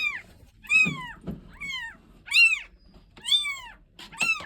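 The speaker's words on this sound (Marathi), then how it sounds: "पिल्लं, मांजरीचे पिल्लं" Several small, high-pitched meows from three newborn kittens found in a house, close and clear, with short pauses between each cry and quiet background.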